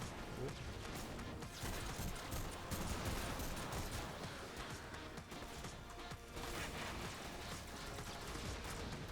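Rapid weapon fire from the Staticor in the game Warframe, a dense continuous barrage of shots and blasts with rocket explosions mixed in, loud and sustained throughout.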